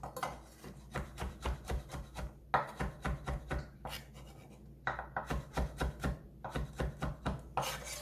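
Knife thinly slicing cucumber pickle on a cutting board, a rapid series of short rhythmic cuts in quick bursts with brief pauses between. The strokes are close and crisp, with no talking.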